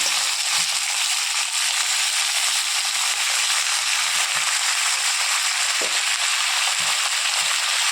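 Kochu (taro) stalks and cut potato hitting hot oil in a kadai, a loud, dense, continuous sizzle with crackle holding steady throughout, no talking.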